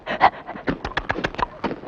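A dog pants fast and rhythmically after catching a biscuit, with quick rasping breaths close by in a steady, uneven string.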